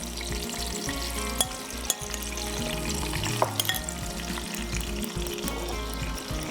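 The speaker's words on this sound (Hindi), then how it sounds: "अब इसको हम डाल देंगे इस गरम ऑयल के अंदर, फौजी सुप्रीम कुकिंग ऑयल में, और इसको करेंगे अच्छे से फ्राई।" Spice paste frying in hot cooking oil for a minced meat pulao, a loud, close, continuous sizzle with a few stirring clanks and no talk.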